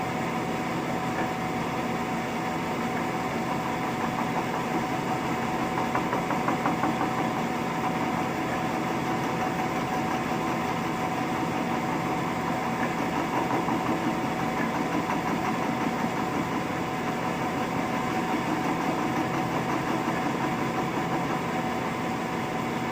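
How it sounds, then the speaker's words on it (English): A metal lathe spins steadily under power feed while cutting, giving a continuous even machine hum with a faint whine, unchanging for the whole stretch and heard without talk. "he's spinning metal on a lathe. And he's using the feed"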